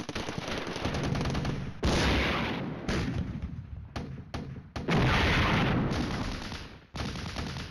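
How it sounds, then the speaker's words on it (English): Artillery and airstrikes in the Flashpoint Campaigns: Red Storm wargame make loud, continuous rumbling booms and rattling fire. Bursts cut off abruptly and restart several times, with no voices. "we'll play out the rest of this turn and see what the artillery and airstrikes do"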